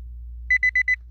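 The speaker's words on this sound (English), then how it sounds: "Oh heck, my alarm's going off." An alarm goes off with four quick, evenly spaced electronic beeps, clear and close against a faint low hum.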